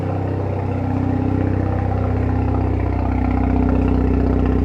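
A tuned Mazda RX-7 FD3S Type R Bathurst R rotary idling with an aftermarket exhaust, a steady, loud low rumble with a fast pulsing beat held evenly throughout, close by with no talk over it.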